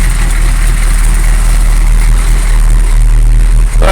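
A 1986 Chevy K30 military truck idles with an exhaust leak, a loud, steady low engine rumble close by with no talking.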